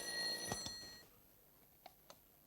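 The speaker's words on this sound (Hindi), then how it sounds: "देखिए इस घड़ी का अलार्म 2 बजे बज रहा है।" A bedside alarm clock rings at night with a faint, tinny ringing for about a second in a quiet room, followed by a couple of soft clicks.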